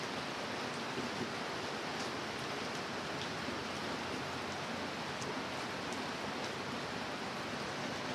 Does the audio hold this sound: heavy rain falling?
yes